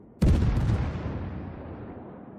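A warship's main-gun salvo in World of Warships: one sudden heavy boom, loud and close, followed by a long rumbling decay that fades slowly over two seconds.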